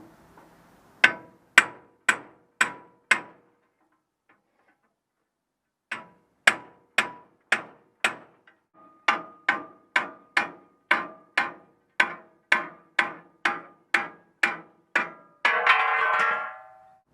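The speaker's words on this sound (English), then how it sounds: "I thought it would actually be rather easy to knock out what was left of the rivets" Hammer blows knocking old rivets out of a steel Willys Jeep bumper, ringing metallic strikes in steady rhythmic runs with a brief pause, about two dozen hits, close and loud, ending in a short grinding burst.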